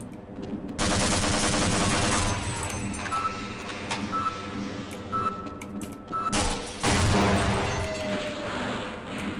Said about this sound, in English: I gotta kill the turrets right now.